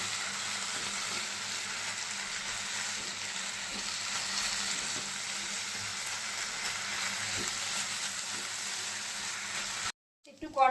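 Banana flower and boiled potato sauté in a pan for mochar chop, a steady close sizzle running throughout with soft scraping stirs, cutting off abruptly near the end before a brief clatter.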